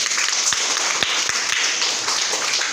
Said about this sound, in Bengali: হাতের তালিটা আবার দাও জোরে